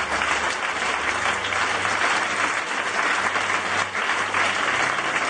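A church congregation applauding and cheering to acclaim the Lord at a priest's 17th anniversary of priesthood, a steady dense roar of clapping lasting throughout with no pause.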